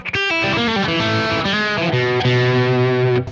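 Headless electric guitar with swamp ash and walnut body playing a short melodic phrase with a thin, bright coil-split tone, some drive and effects, continuous and loud with no talking.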